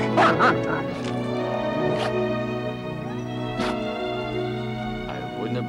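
A dog barks and yips in short bursts over a sustained musical score, with a wolf also present in the scene; the barks come in a few separate clusters, moderately close and clear.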